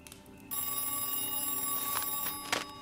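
A telephone rings with a continuous bright bell tone that starts after a brief pause and holds loud and clear on its own.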